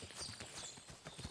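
Horse hooves clip-clop in Kingdom Come Deliverance 2, a quick irregular run of soft thuds, fairly close and moderately loud, with no talk over them.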